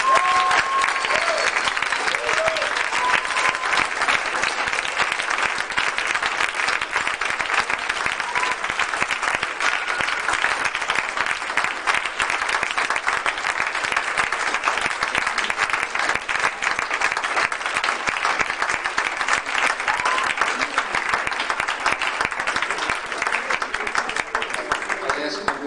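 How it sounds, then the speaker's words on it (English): Audience applause at the closing of an international music seminar in Montpellier, France, in 1987: steady, dense clapping from a large crowd sustained loudly and evenly throughout, with no break. "I think we should give him a nice round of applause."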